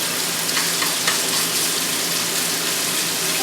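Chicken pieces sear in a hot pan for hibachi-style chicken and vegetables, giving a steady, loud, close sizzle and crackle of frying with no pauses throughout.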